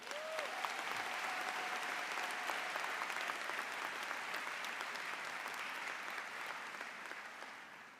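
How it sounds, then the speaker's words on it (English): A commencement crowd at a bachelor's graduation ceremony claps steadily for a graduating student, a broad, even wash of applause from a large audience heard from a distance, easing slightly toward the end. "Please give her a round of applause."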